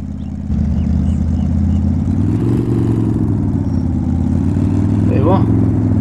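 A car engine runs steadily in a driving game as the vehicle is eased forward, a loud continuous low hum with a slight rise in pitch while someone talks over it.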